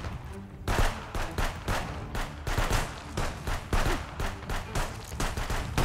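Rapid bursts of gunfire from the video game Contraband Police, loud and close, shots landing in quick clusters and fusillades with short gaps, alone without talk.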